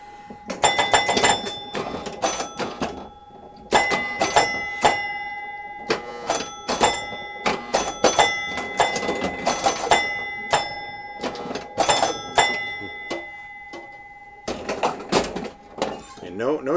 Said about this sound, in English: can you guys hear me over the sound of all those bells?